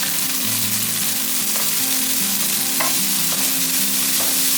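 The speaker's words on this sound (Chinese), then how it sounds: "杏鲍菇略炒一下" King oyster mushrooms and dried tofu stir-fried in a wok, a steady close sizzle broken by a few sharp spatula scrapes, with no voices.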